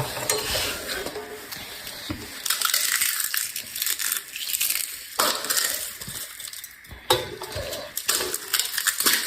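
Food being crushed into crumbs while cooking khichu, a dense run of gritty crunching and scraping with occasional clinks of a spoon against a pan, steady and close, with no talk.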